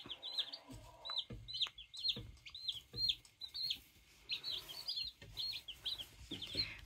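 Salmon Faverolle chicks peep in a steady stream of high, thin chirps, several close together, with soft rustling and light handling noises underneath and no speech.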